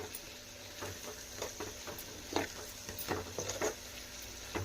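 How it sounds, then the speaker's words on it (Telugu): A spoon stirs coriander powder through a potato fry in a pan, giving soft, faint scraping and patter strokes at an irregular pace over a low, quiet sizzle. "ఇలా కొంచెం ధనియాల పొడి వేసుకొని మళ్ళీ ఒకసారి కలుపుకోవాలి"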